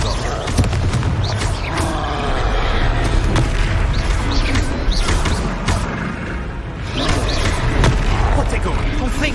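Confringo blasting spell in the Hogwarts Legacy video game sets off rumbling booms amid dense combat effects, with a player talking throughout.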